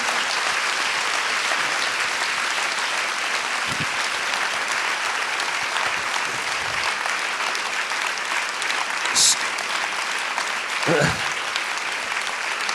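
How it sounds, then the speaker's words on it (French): Audience applause in a lecture hall for the speaker at a talk by Boris Cyrulnik, steady and sustained throughout with a few brief louder claps and faint voices within it. "Vous pouvez l'applaudir"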